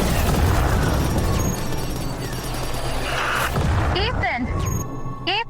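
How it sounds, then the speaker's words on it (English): Cinematic explosion of an alien mothership in space, a dense, loud roaring blast rumbling continuously for several seconds, then sweeping high whines and debris-like zaps near the end; no voices. "As the mothership erupts into a blinding explosion, Ethan bursts from the front of the ship"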